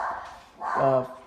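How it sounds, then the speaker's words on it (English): A Labrador gives a short, close bark and whine, overlapping a voice speaking. "And excuse the dogs, everybody."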